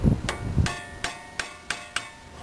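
During a Chevrolet Trailblazer front brake job, a hammer drives a screwdriver against Tinnerman nuts on the brake rotors. About six sharp metallic taps land at a steady pace, close and fairly loud, after some low rustling handling.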